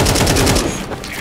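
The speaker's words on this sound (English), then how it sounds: "AK shot." Rapid automatic AK rifle fire in Counter-Strike 2 on the Mirage map, a loud dense burst of shots that cuts off midway, leaving softer game noise behind.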